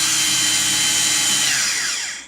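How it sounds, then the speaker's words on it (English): A handheld power drill runs continuously at close range, a loud steady whirring whine that holds level and then begins to wind down at the end. "as we've got the drill here, we might as well"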